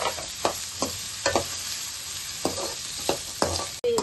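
Vegetables fry in a pan for egg fried rice, a steady sizzle broken by repeated scraping strokes of a spatula roughly every half second, close and moderately loud, with a sharp clatter near the end.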